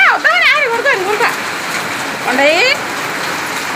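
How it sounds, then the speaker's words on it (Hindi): Heavy rain falling in Hyderabad makes a steady, dense hiss throughout, with voices talking and singing over the downpour. "देखिए पूरा हेवी रेन"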